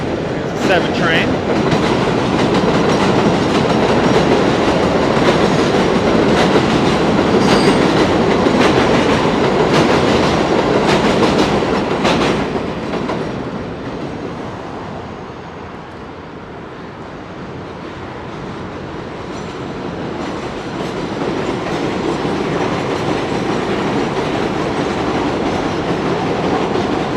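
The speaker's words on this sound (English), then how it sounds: "Train." A train rumbles and clatters past near Queens Boulevard in New York, loud and close at first with rhythmic clicking, then fading to a softer roar before swelling again.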